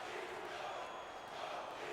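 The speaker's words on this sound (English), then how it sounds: "Getting a good crowd chant right now." A stadium crowd chants in the hockey video game NHL 16, a steady, dense roar of many voices that holds at an even level throughout without clear breaks.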